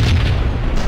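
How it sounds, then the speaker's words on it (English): A bomb explosion in the Max Payne video game: a loud, dense, booming blast that fills the short moment with heavy low rumble. "It was a bomb for sure."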